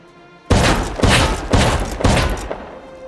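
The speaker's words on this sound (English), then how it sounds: "All I had to do now was dodge those pesky shotgun traps." Shotgun traps in the survival game Rust fire a rapid volley of four loud, close booming blasts about half a second apart, then fall silent.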